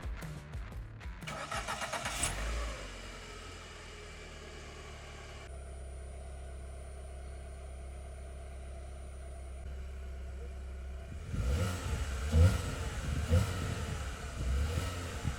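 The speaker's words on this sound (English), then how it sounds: "At idle, the engine is barely audible, even up close. And even when revving it, the engine runs quietly." Tinger TF4 Pro ATV engine starting, then idling quietly at a low steady hum before revving louder near the end, with someone speaking at times.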